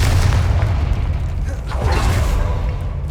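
Confringo explosion spell in Hogwarts Legacy, a heavy continuous booming roar with a swell of crackling bursts in the middle, loud and close, with a voice faintly mixed in.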